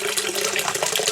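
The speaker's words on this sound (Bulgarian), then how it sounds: "Отгоре наливаме, отдолу наливаме нова и така го претакваме." Cabbage brine, tinted pink from red cabbage, pours and drains from a sauerkraut vessel in a steady, close gushing stream, like water running from a tap.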